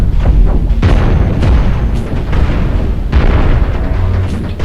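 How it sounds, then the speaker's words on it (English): Missiles striking a ship in Cosmoteer, a run of heavy booming impacts and explosions stacked closely together, loud and rumbling with no speech. "Some missiles coming in to wreck their day."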